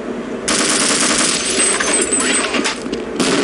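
Rapid automatic gunfire in the video game Half-Life, aimed at grenades, rattles in a dense, loud burst for about three seconds after a brief pause, with a faint clink of falling casings.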